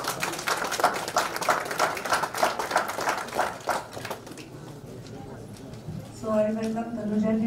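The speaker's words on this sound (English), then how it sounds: "Ladies and gentlemen, we'd like to welcome Ms. Tanuja with a big round of applause, please." An audience at an organic festival opening claps to welcome a woman guest, a brisk rhythmic patter of moderate loudness lasting about four seconds. It fades into quiet, and then a tonal voice or music enters.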